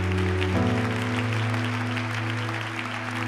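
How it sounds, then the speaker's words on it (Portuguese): A church congregation applauds at length, the dense clapping steady and near over a low sustained hum, with the applause tailing off slightly toward the end. "Pode aplaudir o Senhor."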